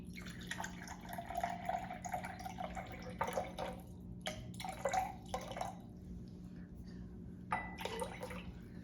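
Hydrogen peroxide pours into a container in several short splashy bursts and trickles, soft and close, separated by brief pauses over a faint background hum.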